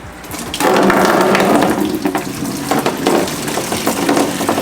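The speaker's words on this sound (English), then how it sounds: "let's take out some of the water from this tank right here and put it in the bucket." Aquarium tank water siphons through a small tube into a bucket, a soft trickle suddenly swelling into a loud, steady gushing pour that keeps splashing to the end.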